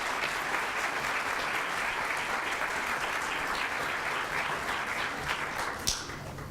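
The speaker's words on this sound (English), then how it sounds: "let's give him a round of applause" A round of applause at a school board of education meeting, a steady wash of many hands clapping at an even level throughout.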